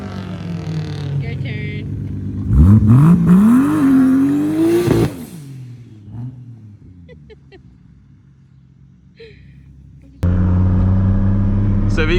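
A Mazda Speed 6 with all-wheel drive accelerates at full throttle from inside the car, its loud engine note climbing steadily before easing off and rising again; people talk briefly over the engine.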